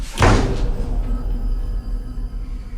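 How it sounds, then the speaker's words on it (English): A door slams shut indoors with a sharp, loud thud at the start, followed by a fading low rumble and room noise. "I think I just heard the door slam."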